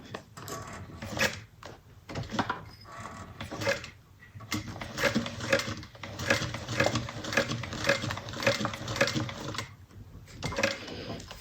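Sewing machine stitching around the curved handle of a handmade Jasmine bag, running in bursts of rapid mechanical chatter with brief pauses between, close and fairly loud.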